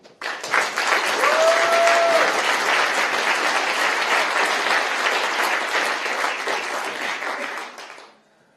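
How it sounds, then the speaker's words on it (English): Sustained applause from a large TEDx audience at Erasmus University Rotterdam greeting the next speaker, dense and steady for about eight seconds before fading out quickly, with a faint whistle tone near the start. "Huge round of applause for Theo Kemperink."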